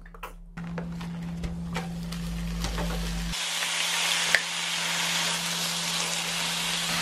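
Oil sizzling steadily on a hot Korean barbecue pan, a close, continuous crackling hiss that swells after a few seconds and holds at an even level with faint pops, no voices present.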